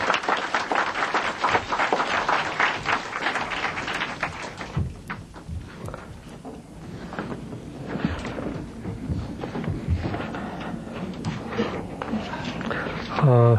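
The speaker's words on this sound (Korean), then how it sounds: "우리 박수로 환영하겠습니다." An audience at a public debate applauds to welcome a professor to the podium, with dense clapping at first that thins out and blends with a speaking voice and room noise.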